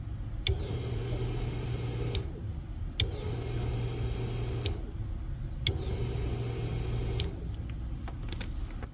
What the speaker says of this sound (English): You're gonna hear the fuel pump turn on as soon as I press up on this